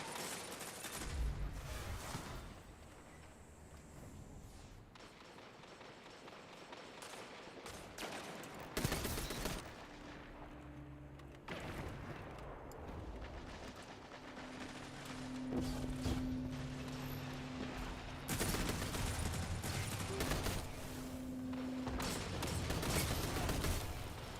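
Rapid bursts of hand cannon gunfire in a video game match, dense and loud at first, thinning out midway, then returning in heavy overlapping volleys with mechanical clicks and tones beneath.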